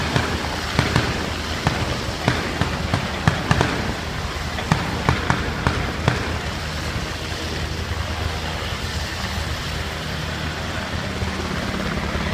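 Twin 7.62 mm miniguns firing from a helicopter during an assault demonstration, heavy continuous rattling bursts over steady rotor noise, loud and sustained throughout.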